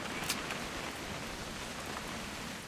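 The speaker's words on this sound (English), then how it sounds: "It's gonna rain the whole weekend, isn't it?" Steady rain falls in the video game What Remains of Edith Finch, an even, close hiss of drops with no other sounds.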